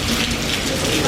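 Rain patters steadily on a wet town street in Crewe past scaffolding and fencing, a dense close hiss with small tapping drops.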